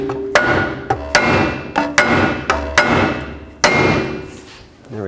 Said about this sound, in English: Now carefully hammer on the knuckle right here to break it free from the studs.